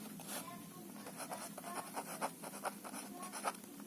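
Pen or chalk writing on a surface during a geometry lesson, a soft, close scratching made of short, uneven strokes in quick succession, faint and alone with no voice.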